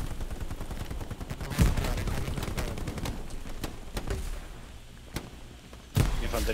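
Gunfire in the World War II shooter Hell Let Loose on the Utah map, with dense overlapping rifle and machine-gun shots rattling continuously and sharper loud bangs standing out near 1.6 and 6 seconds.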